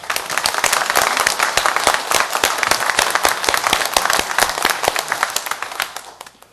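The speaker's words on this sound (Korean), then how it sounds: "우리 영광의 박수 한번 드리겠습니다" A church congregation bursts into energetic applause after a call to give glory, many hands clapping loudly with sharp individual claps standing out before it fades at the end.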